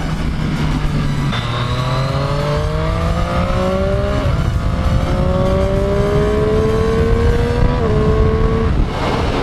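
Triumph Street Triple 765 RS triple-cylinder motorcycle under way, the engine note rising through the revs with gear changes and steady rushing wind, loud and close throughout.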